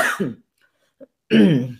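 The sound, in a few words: cough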